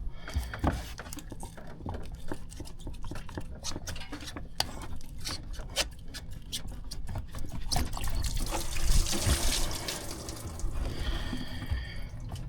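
Coolant draining from a disconnected radiator hose into a pan below a 2016 vehicle during a thermostat replacement, an irregular trickle and patter of drips that swells into a steadier pour, faint and close.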